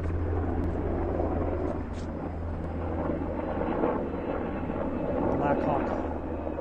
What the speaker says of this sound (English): we got a big helicopter coming somewhere.